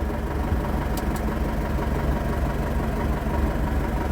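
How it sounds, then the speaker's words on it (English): Tractor engine running steadily to power a brush cutter, a constant low rumbling drone with no change in pace, heard up close with no one talking. "So I'm going to see how well the brush cutter works."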